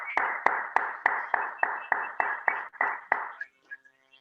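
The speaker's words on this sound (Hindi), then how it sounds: "प्लीज एक बार जोरदार तालियां हो जाए।" Audience claps for two women on stage with a burst of about eleven loud, sharp, evenly spaced claps in a steady rhythm, stopping abruptly after a few seconds.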